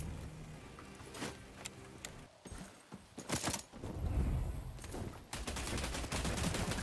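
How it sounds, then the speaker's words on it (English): Gunfire in the video game Bloodhunt, a battle royale, with bursts of rapid shots and scattered single cracks, some close and loud, others more distant, broken by a brief lull before heavier firing resumes. "I'm getting shot from this roof as well."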